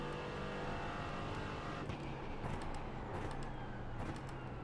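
A GT4 race car at Okayama in iRacing drones steadily at high revs with a constant engine roar, small shifts and clicks breaking through, heard close from on board.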